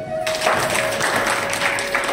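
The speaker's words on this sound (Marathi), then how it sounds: "त्याच्यासाठी टाळ्या वाजवा" Audience applause at a school alumni reunion in Tasgaon, a dense steady patter of many hands clapping that starts abruptly and holds at an even level, with a thin sustained tone running underneath.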